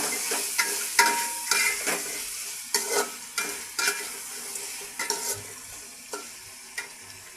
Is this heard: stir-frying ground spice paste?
yes